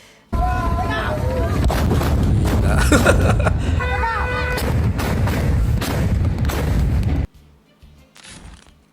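Traditional Pontianak wooden cannons, made from hollowed-out tree trunks, fire a dense run of deep booming blasts with a festive crowd and voices around them, then the noise drops away to a quieter stretch with a few fainter thumps.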